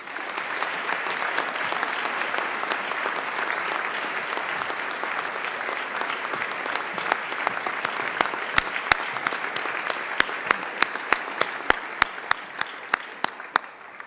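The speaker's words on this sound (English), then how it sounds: "please join me in a round of applause for Minister Sousa" An audience at a formal luncheon event applauds a finance minister. Steady, dense clapping from a large crowd lasts throughout, with individual claps standing out as it thins toward the end.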